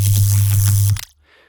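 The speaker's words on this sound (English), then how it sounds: "So this is my electricity patch, and it's just kind of like an old school zap." Synthesized old-school electricity zap from an SFX Pro 9000 synth preset, a loud buzzing crackle with a strong low hum lasting about a second, cutting off abruptly and followed by a faint short tail.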